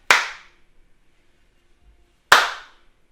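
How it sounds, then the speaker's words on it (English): Two sharp hand claps, spaced about two seconds apart, mark stage-combat punches. Each is a crisp, close, isolated slap with a quick decay and quiet between them. "they're going to do a little clap"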